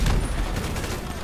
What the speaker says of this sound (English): I'll use my assault rifle.